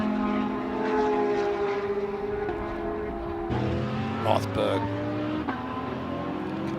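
A Porsche and other GT race cars scream past on the track at Indianapolis Motor Speedway, their engines droning and shifting pitch as they approach, with a louder pass midway.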